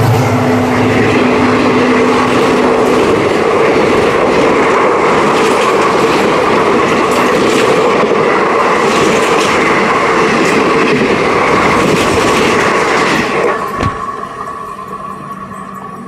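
Pamban Express passenger train pulling away slowly on a single line, a steady loud rumble of wheels and carriages with faint clacking, easing off and quieter near the end.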